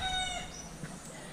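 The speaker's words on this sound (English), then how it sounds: "They out here waking everybody up. Got the roosters and the chickens." A single rooster crow in Puerto Rico, loud and close, its harmonic call fading after a moment into outdoor background noise.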